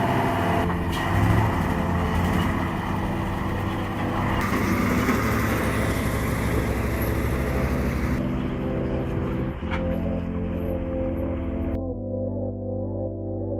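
A heavy logging truck hauling logs grinds through wet, rough forest terrain, its engine a steady loud rumble with continuous low drone and mechanical clatter throughout.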